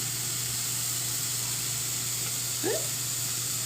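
Mushrooms sizzle steadily in a frying pan for a grilled cheese, a constant close hiss of frying with a brief faint clink or stir near the end.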